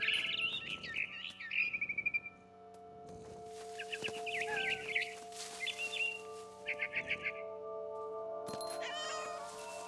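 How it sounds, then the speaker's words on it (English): Scared barn swallow in What Remains of Edith Finch, giving bursts of high chirps and tweets that alternate with cat meows and caterwauls over a steady low game hum. "It was a barn swallow going back to her nest."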